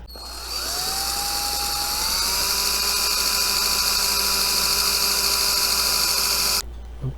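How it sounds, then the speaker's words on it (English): A power drill whines steadily at high pitch, rising briefly as it spins up, then runs continuously before cutting off near the end. "I'll drill one at the top. I have to drill right through the base too on that one."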